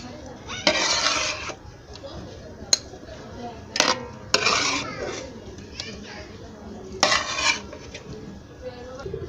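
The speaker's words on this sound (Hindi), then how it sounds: "इसमें से आधा सालन हम निकाल लेंगे।" Chicken biryani curry with tender potatoes and meat being ladled out of a cooking pot at home, with repeated metal clinks and scrapes of ladle against pot among children's voices and background chatter.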